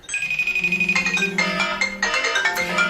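Several iPhones ring at once with the FaceTime call ringtone, overlapping bright electronic chimes playing steadily and loudly with no one speaking.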